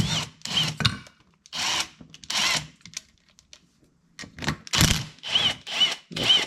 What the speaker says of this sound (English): we're going to take these two bolts off. These are the bolts that cover the slide pins